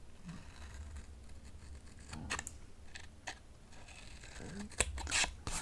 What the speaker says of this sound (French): je coupe sur mon trait